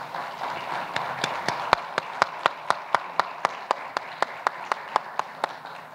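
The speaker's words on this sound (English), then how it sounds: "please stand and let's give them a round of applause" An audience applauds at a university event, with distinct, fairly regular claps standing out over a steady crowd wash for several seconds.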